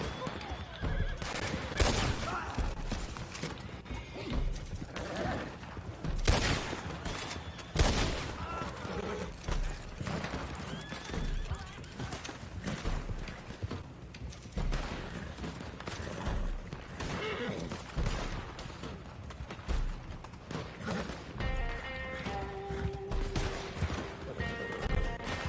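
Horse neighing and clip-clopping hooves in the Red Dead Online video game, mixed into busy game audio with bursts of gunfire and crashes, while a player talks over it.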